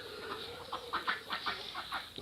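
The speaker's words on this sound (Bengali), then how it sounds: "এইটা ডিম দিচ্ছে দেশি মুরগি এটা" Repeated short clucks from a laying native desi hen in a quick, uneven series, close by, with a faint steady background hiss.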